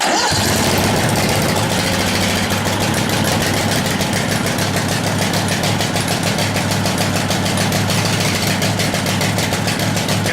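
A small engine cranks and fires up, then settles into a loud, steady idle with a rapid, throbbing rhythm throughout.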